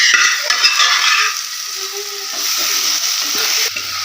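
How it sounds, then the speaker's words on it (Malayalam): Beef goes into a hot pan with coriander leaves for a beef roast and fries with a loud, close hiss and sizzle that settles into a steadier fry, with some stirring scrapes and no voices. "ഇനിയിപ്പോൾ നമുക്ക് നേരെ ബീഫ് ഇടാം കേട്ടോ ഇട്ട് കൊടുക്കാം ബീഫ് ഇട്ട് കൊടുക്കാം"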